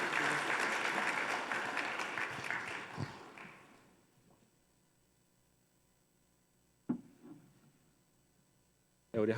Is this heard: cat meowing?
no